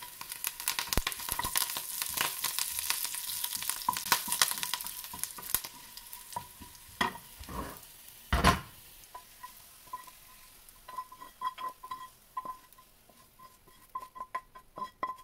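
Cumin seeds and curry leaves sizzle in hot oil in a frying pan, a steady crackling hiss with a sharper pop near the middle that settles into softer sputtering, with no one talking.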